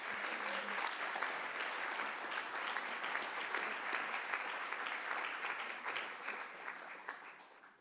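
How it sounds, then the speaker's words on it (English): A conference audience at Stanford University gives dense, sustained applause that stays loud and even for several seconds, then starts to thin toward the end. "Please give her a big round of applause."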